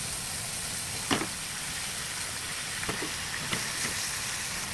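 Chicken pieces frying in a kawali for a pan-cooked chicken barbecue, giving a steady close sizzle and hiss with a few brief clinks and stirs from handling the pan.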